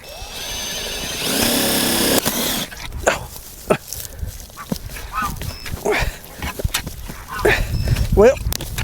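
A power drill whines loudly for about two seconds near the start, then stops, followed by people talking and scattered clunks and thumps.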